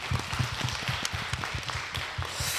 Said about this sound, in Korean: 우리 박수로 좀 환영했으면 좋겠습니다